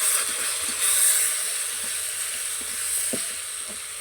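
Ground Kashmiri chilli, cumin, hot chilli and turmeric frying in oil hiss and sizzle steadily when a little water is splashed in, a close, continuous spitting sound with faint clatter.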